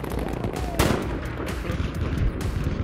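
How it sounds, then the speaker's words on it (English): Gunfire in Battlefield V on the Arras map, a sharp close shot followed by a steady crackle of distant and nearby shooting, with faint voices now and then. "Is everybody shooting?"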